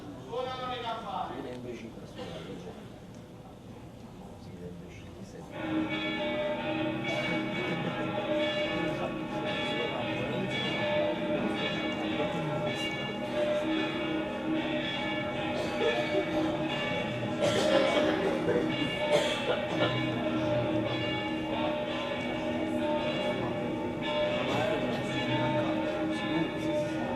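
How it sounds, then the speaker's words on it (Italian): Church bells ring on a Sunday in Naples, a steady resonant chiming that continues under voices. "È domenica, suonano le campane."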